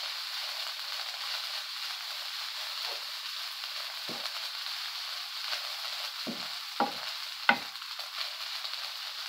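Fried rice sizzles steadily in a pan with olive oil, a constant bright hiss broken by several soft scraping stirs of a utensil, with no talking.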